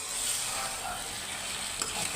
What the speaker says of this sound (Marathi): मसाला लागू द्यायचा जरा 1 मिनिट जरा असं परतायचं